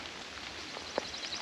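Rain falling on a tent at a campsite in the Sam Houston National Forest: a faint, steady soft hiss with a few scattered drop taps, heard alone.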